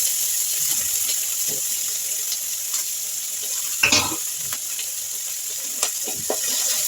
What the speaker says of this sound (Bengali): একটু চিনি দিয়ে দেবো, দিয়ে লাল লাল করে ভেজে নেব ক্যাপসিকাম ও টমেটো কুচিগুলোকে।